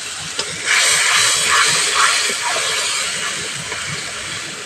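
Spice paste sizzles loudly as it hits hot oil in a pan with lightly fried green chilies and tomato, a sudden burst of hissing that settles into a steady crackling fry.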